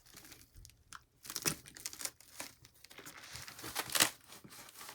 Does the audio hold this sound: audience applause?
no